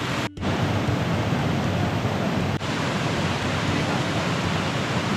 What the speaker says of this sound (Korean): 또 폭포 소리가 어디선가 또 들려오고 있습니다